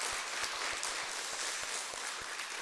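A church congregation applauds during a women's mission dedication worship service, a steady wash of many hands clapping together, evenly sustained and moderately distant throughout.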